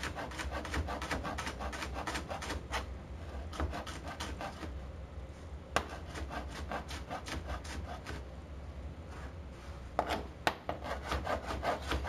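Knife giving shallots a rough chop on a wooden cutting board, a steady run of rapid rhythmic taps and scrapes close up, with occasional sharper knocks.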